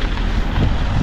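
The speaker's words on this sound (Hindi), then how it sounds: "ठंडी ठंडी हवा चल रही है" Cold mountain wind on the high road over Khardung La in Ladakh, roaring steadily and loudly across the microphone as a dense, unbroken rush with low buffeting rumble and no pauses.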